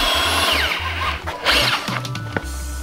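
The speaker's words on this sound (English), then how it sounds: "And now we're drilling." A power drill drilling during a turbo 02M transmission re-assembly, loud and close, running in repeated bursts that stop and restart with shifting speed, with no speech over it.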